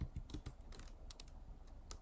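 Someone types on a computer keyboard at a desk, entering a file name: quick, irregular clicks of keys at close range, with no speech.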